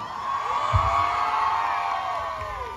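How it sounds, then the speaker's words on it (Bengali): A crowd at a film promotion in a shopping mall cheers and whoops together, a sustained roar of many voices echoing through the hall, loud and continuous. "এই মানুষটার জন্য একটু জোরে হাততালি।"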